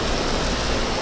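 Downpour in a parking lot, a thick continuous wash of rain drumming on surfaces, loud and even throughout the brief stretch.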